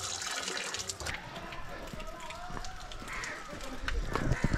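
Water runs continuously from a traditional stone water spout on a hiking trail near Kathmandu, Nepal, a close, steady splashing that swells slightly toward the end, with voices nearby.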